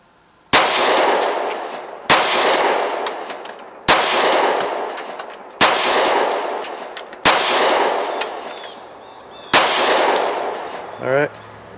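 Kel-Tec PF9 pistol fired at a paper target on an outdoor range: six sharp, loud gunshots spaced about every one and a half seconds, each followed by a short ringing decay.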